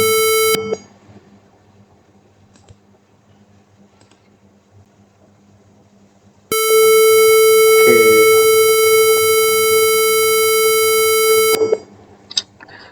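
Simulated buzzer in a Wokwi clothesline automation circuit, one short tone and then a long, loud, steady electronic beep of about five seconds, pure and sustained before cutting off, with no voices.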